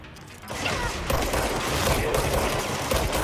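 Rapid pistol gunfire in the video game Control, a dense, steady stream of shots that starts abruptly after a brief quiet moment and continues loudly without pause.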